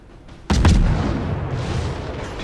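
Naval gunfire from a cruiser in World of Warships, a sudden loud cannon salvo followed by a long rumbling, fading roar.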